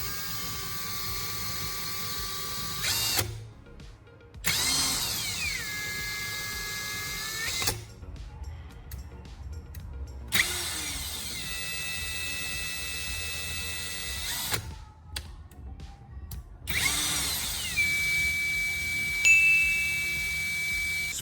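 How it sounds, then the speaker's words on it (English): An electric drill, its trigger held lightly by a zip tie, spins slowly with a bolt and sandpaper discs, giving a steady whine and a knife blade grinding between the discs, broken by several short pauses. "Use a plastic zip tie to keep the trigger pressed lightly, so the drill runs slow and steady."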